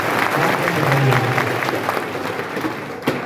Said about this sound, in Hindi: एक बार फिर से जोरदार तालियां।